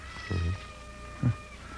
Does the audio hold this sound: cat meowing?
yes